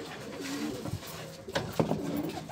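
Pigeons coo in a low, repeated rhythm, close by and fairly soft, with a few brief flutters and rustles in between.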